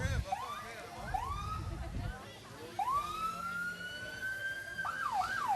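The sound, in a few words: emergency vehicle sirens in a parade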